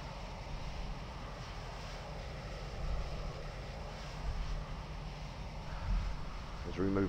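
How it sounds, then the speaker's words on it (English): Simulated Boeing 737-800 jet engines in the X-Plane 11 flight game, a steady, moderately loud drone with a low rumble and faint airy hiss, with voices over it. "the sound effects of his lovely engine shouldn't be coming through my ears so much"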